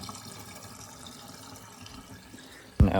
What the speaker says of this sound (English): So, the water is running down this pipe right now and going into our belt box.